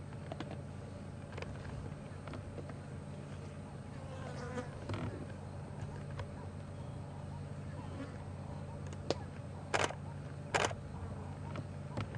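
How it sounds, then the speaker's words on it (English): Flies buzzing around meat hung up outdoors on a hot, humid day at a game reserve, a steady faint insect drone with a few louder passes close by, under quiet outdoor ambience and occasional low talk. "The flies buzzing around the meat."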